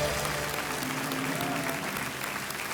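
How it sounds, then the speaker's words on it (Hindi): Studio audience applause on a television quiz show, a steady wash of clapping held throughout the short stretch, moderately loud with faint background music beneath. "देवियों सज्जनों, तालियां बजती रहनी चाहिए।"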